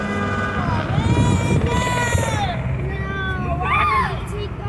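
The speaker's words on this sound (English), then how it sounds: "That's the N900K helicopter for all y'all military guys." A county prison helicopter, type N900K, runs on the ground while chained down, its rotor and engine roaring steadily at a distance under excited voices talking throughout.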